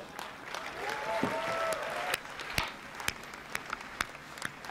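An audience at the PlayStation Experience conference applauds in a dense wash of clapping that thins into scattered, individual claps, with a faint voice underneath.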